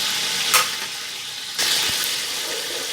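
Whole garam masala, with cumin, cloves, cinnamon, black pepper and black cardamom, fries in hot oil with a steady sizzle. Two sharper bursts of crackling come as the spices hit the oil.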